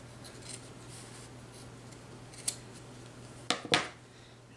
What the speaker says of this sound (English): And we're going to cut out a circle.